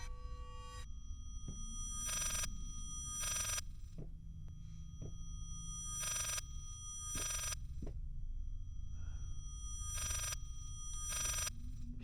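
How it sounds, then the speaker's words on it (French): A telephone rings in the horror video game Layers of Fear, sharp electronic bursts repeating in pairs at regular intervals over a low droning ambience, with dull thuds and creaks between rings. "ce bruit de téléphone là!"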